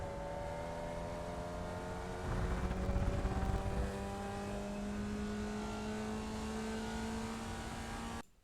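A Formula Vee race car at full throttle in iRacing at Rudskogen Motorsenter, a steady buzzing engine drone with rising pitch, a brief louder rumble midway, then a sudden cut at the end.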